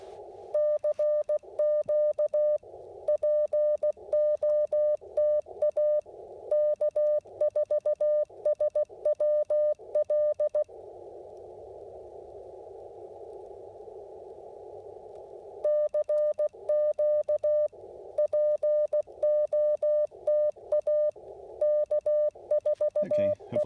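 Steady Morse code CQ call keyed on an Icom IC-705 radio with a 3D-printed paddle during an outdoor park activation, a clear single-pitch tone beeping in rapid dot-dash rhythm, loud and alone, with a brief gap of quieter tone midway.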